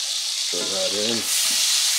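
Ham steak frying over medium heat with brown sugar, a steady bright sizzle heard up close, with a brief tonal hum or voiced sound in the middle.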